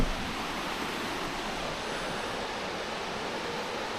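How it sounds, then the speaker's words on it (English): River rapids splitting around a rock island, a steady mid-level rushing of moving water, even and unbroken, with no talk. "It's just got some rapids here"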